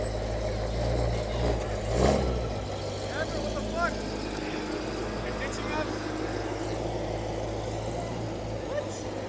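A manual BMW E92 M3 Competition idles and creeps along at a car meet, its low, steady engine drone running under crowd murmur, with a brief louder swell early on.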